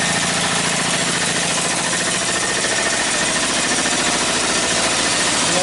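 Briggs & Stratton 18hp opposed-twin engine with dual carbs and dual exhaust runs steadily up close, a loud, dense chugging drone with a continuous mechanical rattle, no voices.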